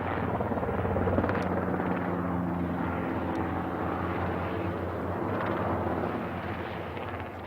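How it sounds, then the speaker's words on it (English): A spotter helicopter herding camels in the outback gives a steady, loud rotor drone and engine whine that persists throughout, with slight swells in intensity as it moves. "As soon as the spotter helicopter moves the herd towards us"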